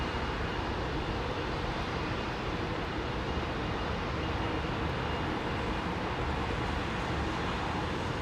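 Aircraft at London Heathrow Airport, a distant, broad steady roar of jet engines that holds at a constant level without pauses or voices.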